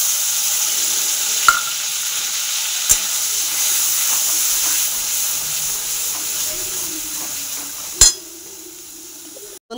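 Pointed gourd peel paste sizzles steadily in hot oil in a pan, a continuous bright hiss with a few sharp clinks of a utensil against the pan.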